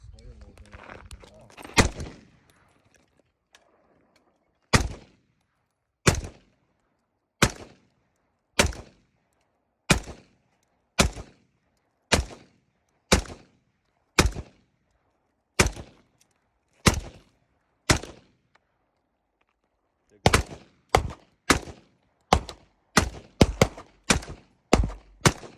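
Outdoor gunshots at a shooting session ring out one at a time, loud sharp cracks spaced about a second apart, then a faster cluster of shots near the end, with brief talk at the start.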